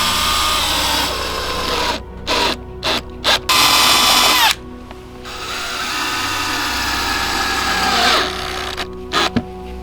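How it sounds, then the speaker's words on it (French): A power drill bores pilot holes in pallet wood for a birdhouse, its motor whirring in sustained runs broken by short, abrupt stops and restarts, close and fairly loud. "avant de visser, vous faites des pré-trous, autrement il y a un fort risque que le bois fende."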